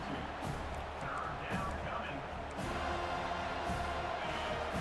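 Stadium crowd at a Georgia vs FSU college football game swelling into a steady, loud roar on a third-down defensive stand, continuous throughout with a broadcast voice faintly underneath.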